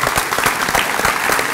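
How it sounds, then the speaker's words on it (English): An audience applauds elected officials at a WKU Rooster Booster breakfast in June 2017, a dense, sustained round of clapping from a large crowd in a hall. "give you a big rousing round of applause for your service"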